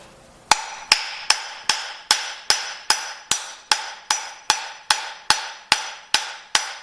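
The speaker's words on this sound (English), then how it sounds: "You could put this in here, give yourself a little more space too, for when you're tapping this out." A hammer taps out a loose bearing on a Cub Cadet mower repaired with JB Weld: about fifteen sharp metallic strikes at a steady, even pace, each ringing briefly, loud and close with no talk.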